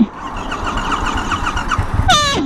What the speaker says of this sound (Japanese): かかり悪い。 この前もかかり悪かったって。